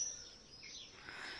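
Common swifts calling faintly in the distance, thin high shrill screams drifting over a quiet background with no voices.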